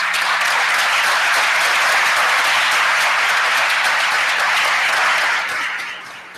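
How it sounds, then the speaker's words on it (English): Audience at a township committee meeting applauding two retirees, a loud, dense, sustained round of clapping from many people that holds steady for several seconds before tapering off at the end. "Let's give them a round of applause."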